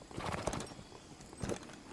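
Horse hooves clip-clop in The Legend of Zelda as a horse in royal harness is ridden, a couple of soft bursts of steps at moderate distance with no talk.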